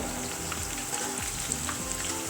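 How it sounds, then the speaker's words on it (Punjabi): Grated carrots frying in hot ghee for gajar halwa: a dense, continuous sizzle and crackle, close and fairly loud, steady throughout with no talking. "ਤੇ ਹੁਣ ਆਪਾਂ ਇਹਦੇ ਵਿੱਚ ਗਾਜਰਾਂ ਨੂੰ ਪਾ ਦੇਵਾਂਗੇ"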